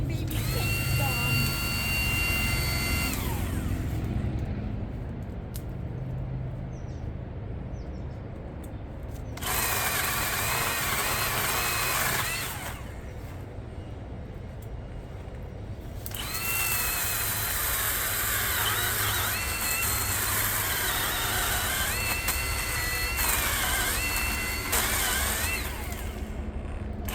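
A tiny chainsaw runs in a backyard with a steady, droning motor note that surges louder in three bursts. People talk over it.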